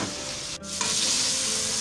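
Chicken frying in a pan for a restaurant-style creamy chicken curry, a loud dense continuous sizzle close up with a brief dip and a scrape partway through, no voices.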